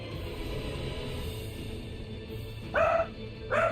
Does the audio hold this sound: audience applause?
no